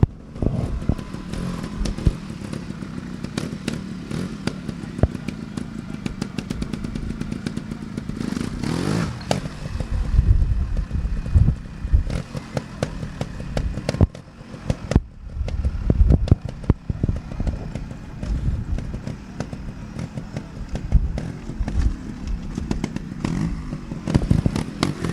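Trials motorcycle hopping and maneuvering through a tight section at an extreme trials show in Lanark, with engine blips, revs and clattering bursts continuing throughout over outdoor background noise.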